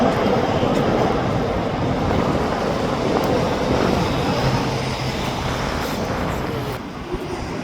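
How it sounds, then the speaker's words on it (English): A westbound train rumbling past near the Sapperton station area, a steady, loud low roar that fades slightly toward the end, with no talk over it. "Train heading back to westbound."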